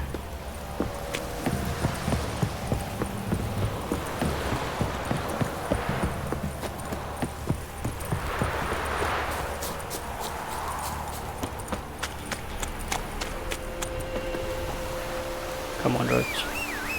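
Roach, Geralt's horse in the video game The Witcher 3: Wild Hunt, keeps a steady rhythmic clip-clop of hooves at a brisk pace throughout, under ambient noise and occasional speech.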